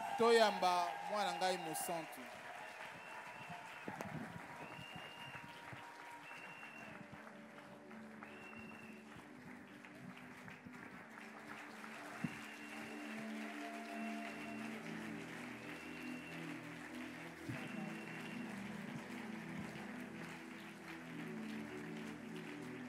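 Audience applause at a Bible seminar and enthronement ceremony, a steady crowd clapping that runs through the whole stretch at moderate level, with music and speech underneath.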